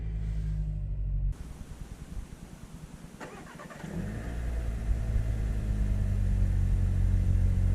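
After a push-button start, a car engine cranks for a couple of seconds, catches and settles into a steady cold-start idle, close and fairly loud with no talking.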